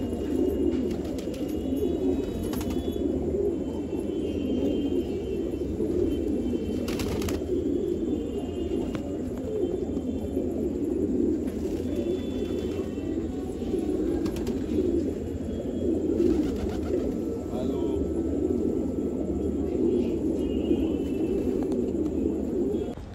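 A large flock of about 400 pigeons coos steadily on a rooftop at night, a dense low murmur continuous throughout, with occasional faint clicks and a brief flutter.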